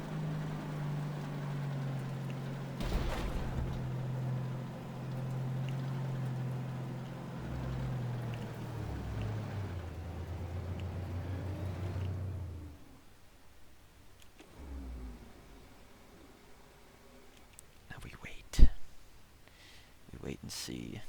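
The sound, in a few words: MBT-70 tank driving at speed in Armored Warfare video game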